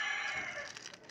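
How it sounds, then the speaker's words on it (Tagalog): Chickens clucking and a rooster crowing nearby, a busy mix of fowl calls filling the short moment. "pasensya na kayo sa mga manok na maiingay"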